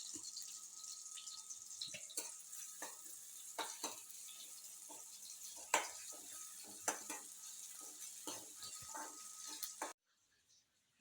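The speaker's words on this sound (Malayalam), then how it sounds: "ചെറുള്ളി ഞാൻ അരിഞ്ഞു വെച്ചതാണ് അത് ഇതിട്ടൊന്ന് മൂപ്പിച്ചെടുക്കാം" Chopped shallots fry in hot coconut oil for a Kerala-style pepper chicken, a soft steady sizzle broken by scattered crackles and pops close by, cutting off abruptly near the end.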